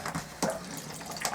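A cold tap in a 1997 Lunar 2000 LX 402 touring caravan runs into the sink, giving a close, steady splash with a sharper burst partway through and no speech.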